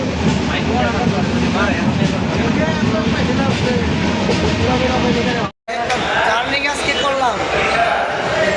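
A train pulls into a station, its loud, steady rumble and rattling wagons filling the scene while people talk over it, with a brief cut partway through.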